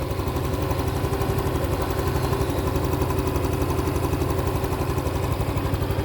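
A Honda Wave 110i motorcycle engine, 2024 model, idles close by with a steady, even low putter that holds the same pace throughout.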